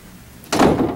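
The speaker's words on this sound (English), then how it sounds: "please ensure that the door is closed behind you." A lab door closes with a single solid thunk, loud and close, following a brief quiet moment.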